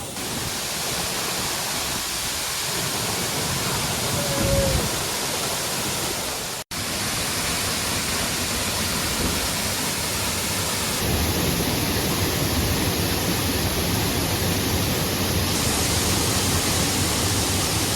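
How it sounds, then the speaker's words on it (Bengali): Damakal Waterfall in Godda district, Jharkhand, roars loud and unbroken, a dense wash of crashing water filling the whole stretch with no other clear sounds. "দেখতে পাচ্ছেন জলের গতিবেগ মারাত্মক হয়তো আমার কথাও শোনা যাচ্ছে না এই জলের গতিবেগে"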